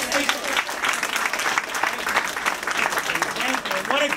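Audience applause at a political campaign event fills the whole stretch with dense, continuous clapping from a crowd, steady in loudness throughout.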